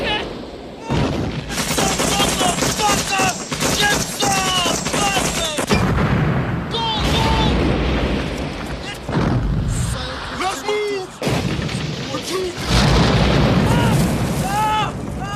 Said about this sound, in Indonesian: langsung menghujani tentara Amerika dengan bom dan tembakan